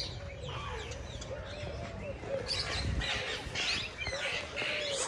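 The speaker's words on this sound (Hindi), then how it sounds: "और कबूतर वगैरह सब कुछ है।" Pigeons coo and other birds chirp continuously at an outdoor spot in Islamabad, forming a dense, moderately loud chorus with a broadband rush swelling in the second half.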